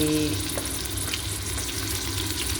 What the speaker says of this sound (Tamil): வெங்காயம் போட்டாச்சு. வெங்காயம் வணக்கிட்டு இருக்கிறோம்.